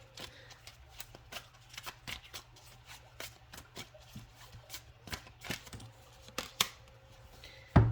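A deck of tarot cards is shuffled and handled, giving quick crisp riffling and flicking bursts in an irregular rhythm, close and fairly quiet, with no talking.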